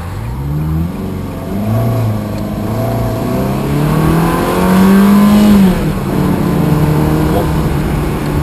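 A Ferrari 360 Spider's engine hums and rises as the car accelerates on the road, its pitch climbing and then easing back, loud and close from inside the cabin, with people talking over it.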